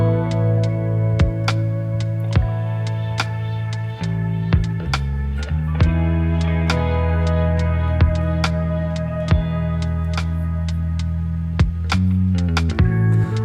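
A mellow lo-fi hip-hop track from a home-recorded album in progress plays steadily, with sustained warm chords over a low bass bed and regular soft percussive hits keeping a relaxed beat throughout.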